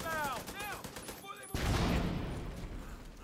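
A burst of gunfire in The Division 2 cuts in sharply midway, a dense rattling fusillade that stays loud to the end, preceded by someone talking over game sound.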